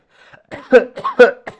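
Several sharp, close coughs come in quick succession, harsh and throaty, with brief pauses between them.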